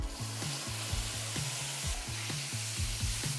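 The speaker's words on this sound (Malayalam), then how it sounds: "ഇതൊക്കെ ഇട്ടിട്ട് ഒരു 30 to 45 സെക്കൻഡ്സ് ഒന്ന് സ്ലോ ഫയറിൽ ഒന്ന് നമുക്ക് റോസ്റ്റ് ചെയ്തെടുക്കാം." Spice powders roast on slow heat together with fried prawns in a pan, giving a steady close sizzle punctuated by regular rhythmic scraping strokes of stirring, with no talking.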